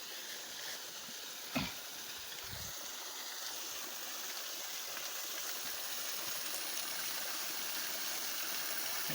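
Water pours down stone steps at a dam with a steady, broad rushing wash. A couple of brief thumps sound near the start, and the flow grows slightly louder toward the end.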